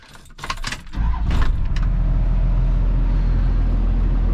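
Keys jingle briefly before a car engine cranks and catches, then settles into a steady loud idle.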